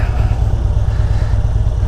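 Steady rumbling motorcycle engine at a constant pace, loud and close, with a gritty low drone and no voices, riding in Belgium.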